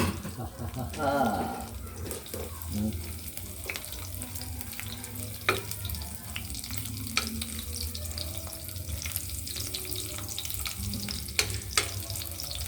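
Garlic fries in a pan for chicken adobo, a steady close sizzle mixed with watery, splashy sounds and occasional clinks, while a voice talks at intervals.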